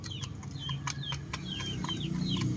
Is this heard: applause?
no